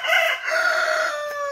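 A rooster crows once nearby, a single clear, drawn-out call that rises and then holds a steady tone, with no other sounds around it.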